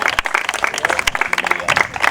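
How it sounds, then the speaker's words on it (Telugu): A church congregation at a Telugu healing gathering claps together, a dense, steady burst of applause filling the space for a couple of seconds with no voices over it. "అందరం చప్పట్లు కొట్టి ప్రభు కిస్తుంది"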